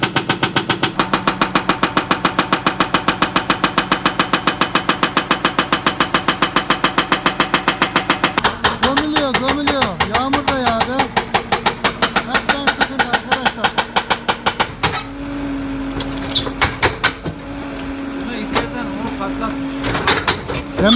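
A JCB backhoe loader's hydraulic breaker pounds a cesspit wall in a fast, loud, steady train of impacts over a running diesel engine, the rhythm shifting and becoming more irregular partway through as the hammering continues.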